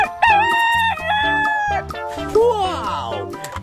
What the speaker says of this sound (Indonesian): Kalau ini ayam jantan.